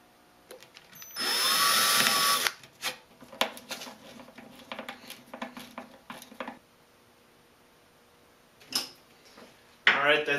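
A power drill screws wheels onto a rolling workshop cart with one loud sustained whir, followed by scattered clicks and handling knocks and a short later burst, with a voice briefly heard.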